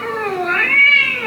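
A cat gives one long, loud, close meow that rises and falls, drawn out and whiny, with no other sound around it.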